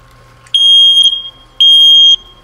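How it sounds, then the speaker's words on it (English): A smoke alarm powered by a 9-volt heavy-duty battery gives two loud, piercing electronic beeps, each about half a second to a second long with a short gap between, sounding close and alone. "So we have the fire alarm right now, right here."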